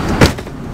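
Door of a wrecked 7.3 Powerstroke truck pulled shut while cruising at highway speed, a single muffled thump standing out briefly over steady road and wind rumble.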